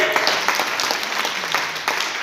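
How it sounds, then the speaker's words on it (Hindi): Loud, continuous clapping from a crowd at a Modicare gathering, dense and even, with occasional sharper claps and a faint murmur of voices beneath the applause. "एक जोरदार ताली बजाइए, उसको फायदा बजाइए।"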